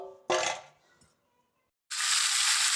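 Fish frying in a hot wok, a loud burst of sizzling, a short clink, then quiet before a steady, bright hiss of oil resumes close by.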